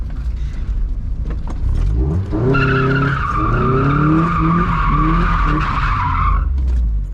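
Stock Mazda Miata sliding around a pole, tires skidding in a loud, sustained squeal over the revving engine note, close by, lasting several seconds before fading out.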